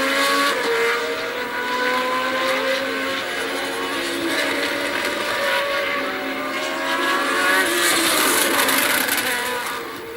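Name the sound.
Nelson Piquet's Formula 1 race car on a lap, 1981 Argentina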